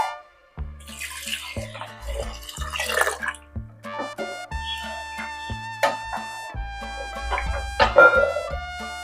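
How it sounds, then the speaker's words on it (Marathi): Water runs into a pot of dal khichdi mixture, with a gurgling, bubbling pour and clear watery drips at close range that keep on over several seconds. "व्यवस्थित मिक्स झालेला आहे तर आपण यामध्ये पाणी घालूया"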